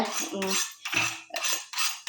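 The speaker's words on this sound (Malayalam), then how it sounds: "നമുക്ക് ഈ കത്രിക കത്തിയൊക്കെ ഉണ്ടല്ലോ നല്ല പോലെ ഇതുമ്മ വെച്ച് മൂർച്ച" Scissors and a knife scraped hard against the rim of a metal vessel to sharpen them, five rough grinding strokes in a steady back-and-forth rhythm, loud and close with no talking.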